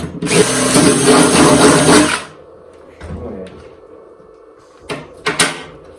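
A power drill bores holes in a kart seat bracket, a loud continuous whine for about two seconds that then stops, followed by quieter clanks and a couple of sharp knocks as the parts are handled.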